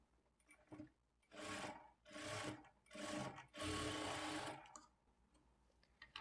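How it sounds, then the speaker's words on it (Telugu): A sewing machine stitching the shoulder seam of a layered frock, four steady whirring runs of stitching separated by short pauses, close and clear in a quiet room. "ఇప్పుడు ఇదే స్టిచ్ మీద ఇంకొక స్టిచ్ వేసుకోవాలి."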